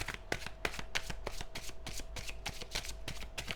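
Tarot cards riffle in a rapid, even run of close, crisp shuffling bursts, about a dozen quick flutters with no voices.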